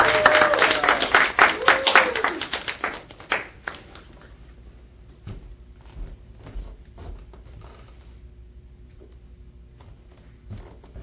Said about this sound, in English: So let's all go ahead and start clapping